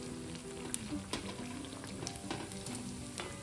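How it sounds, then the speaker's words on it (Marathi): Sabudana vadas fry in hot oil with a continuous soft bubbling sizzle, faint and close, broken by a few light crackles and spatters. "आता दुसरी बाजू होईपर्यंत आपण आता तळून घेऊ।"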